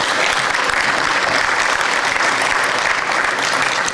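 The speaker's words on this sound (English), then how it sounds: "I think that deserves a round of applause." Dense, steady audience applause fills a hall at a parks agency's 70th anniversary celebration, loud and continuous from start to finish with no voices on top.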